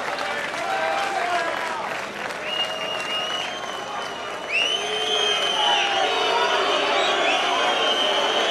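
Boxing arena crowd at the Eubank vs Essett WBO super-middleweight fight, a sustained wash of applause, cheers and whistles filling the hall, with commentators talking over it.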